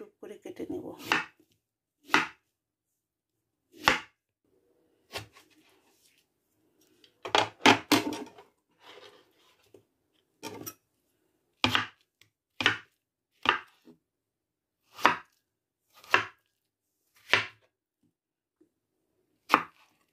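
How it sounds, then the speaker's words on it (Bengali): A knife chops through a peeled gourd-like vegetable, cutting it into tube-shaped pieces: sharp, separate thunks on a board, some in quick clusters and others spaced out, close and clear. "টিউব টিউব করে কেটে নেব।"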